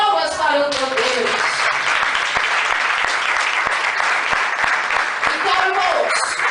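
A church congregation claps in praise to God, dense rhythmic applause throughout, with a preacher's voice heard at the start and again at the end.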